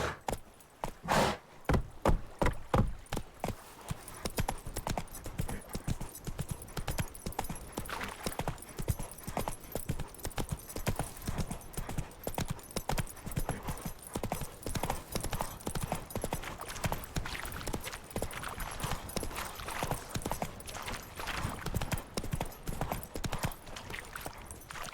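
Roach the horse from The Witcher 3 gallops with a fast, continuous clip-clop of hooves, loud and close, running on without pause.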